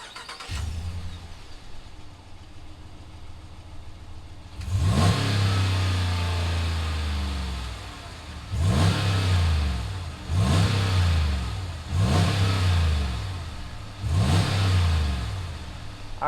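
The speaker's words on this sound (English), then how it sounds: "Let's fire up this Ram 1500 and see what it sounds like." A 2019 Ram 1500 Limited 4x4 with a V8 cranks and fires up, settling into a deep idle before four strong rev blips that rise and fall in turn, loud and near with no talk.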